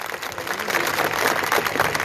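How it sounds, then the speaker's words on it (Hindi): A large crowd at a public gathering claps loudly for itself, a continuous wash of many hands that swells in the middle and holds steady, with faint voices underneath. "मैं चाहता हूं कि एक बार जोर से आप अपने स्वयं के लिए तालियां बजाइए"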